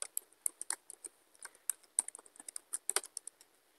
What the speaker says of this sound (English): So I will type a message to my another email